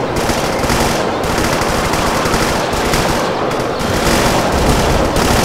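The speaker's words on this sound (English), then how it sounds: "Let's see the napalm strike come in." A napalm strike in the Doom mod VietDoom, a loud continuous roar of crackling blasts and rapid gunfire-like bursts that stays dense and unbroken from start to finish.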